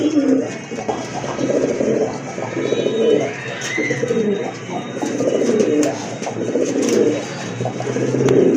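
Pigeons coo repeatedly from a breeder's loft, soft rolling calls continuing throughout alongside someone talking close by.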